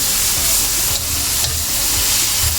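Cabbage and shrimp sautéing in a pan, a steady close hiss and sizzle of stir-frying that runs without pause, with no voices.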